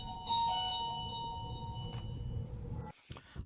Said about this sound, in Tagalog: you can clearly hear the office doorbell ringing